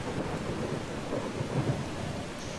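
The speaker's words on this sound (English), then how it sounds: "I'm here to take shelter from the storm" A thunderstorm in the video game Eastshade, with rumbling thunder and heavy rain in a dense, continuous wash that stays loud throughout, without voices.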